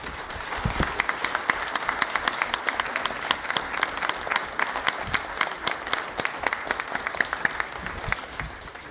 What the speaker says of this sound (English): Can we get a round of applause for your candidates